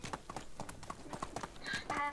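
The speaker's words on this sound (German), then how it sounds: "Das war nicht dein Esel, Kurga. Ach, da oben steht meiner" Donkey hooves clip-clopping in the medieval survival game Medieval Dynasty, a quick steady series of hollow clops over several steps, close and clear, ending with brighter game tones.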